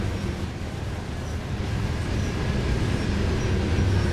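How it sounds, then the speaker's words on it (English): An SD40-2 locomotive hauls a train past in Trainz 2022 on a Midwestern line, a steady, loud rumble of wheels and rolling stock that holds for several seconds without a break. "let's wait for the train to go by first."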